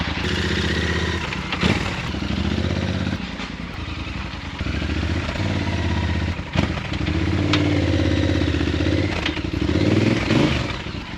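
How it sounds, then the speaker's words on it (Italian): A motorcycle is pushed into a cramped, narrow workshop, its side cases removed first, with a steady engine-like drone, intermittent clatter and scraping knocks throughout, no talking. "Appena parlato con Ignazio posso portare la moto inside"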